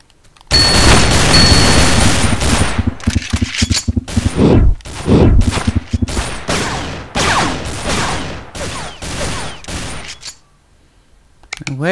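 Loud, rapid gunfire in the Survivalist video game: dense, overlapping bursts of shots and booms go on for about ten seconds, then stop abruptly.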